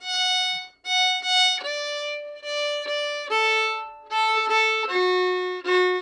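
A solo fiddle plays the first part of the tune "Flop Eared Mule", bowed notes rising and falling in quick phrases, clear and close with no voices.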